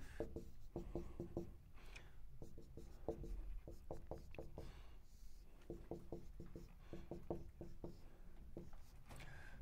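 A pen scratches across paper while a circuit diagram is drawn for an electrical engineering exercise, with quiet close bursts of quick rhythmic strokes separated by brief pauses.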